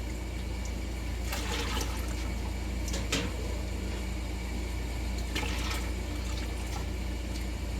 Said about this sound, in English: now I got to add 2 more jars of water.